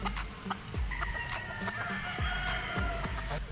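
A Boston gamefowl stag at a game farm crows in a drawn-out call amid clucks from other fowl, with a few short voices nearby.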